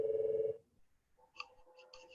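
A telephone in a room during a talk gives a short steady electronic ring lasting about half a second, then a few fainter scattered beeps in near silence.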